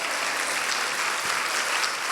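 Church congregation applauding during a Spanish-language sermon, a dense continuous wash of many hands clapping at once, steady and fairly loud throughout the short stretch.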